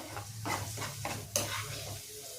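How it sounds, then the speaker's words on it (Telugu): Green chillies fry in a pan with a close, quiet sizzle under repeated stirring strokes and a sharp utensil clink partway through. No one speaks. "ఈ పచ్చిమిరపకాయలది ఫ్రై అయిపోయిందండి"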